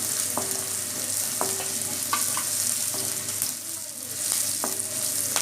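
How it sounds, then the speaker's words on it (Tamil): Steady frying sizzle of green chillies, ginger and garlic, with occasional stirring clicks and scrapes, a constant hiss in the pan throughout, fairly close. "இஞ்சி பூண்டு பச்சை மிளகாலாம் நல்லா வதங்கட்டும்"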